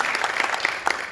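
Brief applause at a legislative district town hall honoring the MC, a short spatter of scattered hand claps from the audience that fades within about a second.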